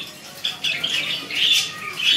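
Several birds squawk and chirp in bursts at close range among birds being kept in cages, harsh calls overlapping irregularly with faint wing flutters.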